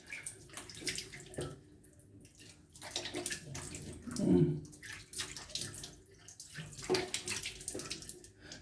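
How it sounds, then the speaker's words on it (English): Warm water splashes and gurgles as a face is rinsed over a basin, with irregular close splashing bursts that swell in the middle and continue throughout. "Take out time to rinse your face very well."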